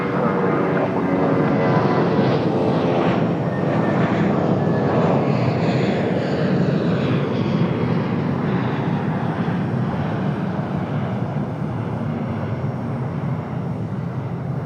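An American Airlines jet departs from the runway at Raleigh-Durham International, its engines a loud, sustained roar that swells and then slowly fades as the aircraft climbs away.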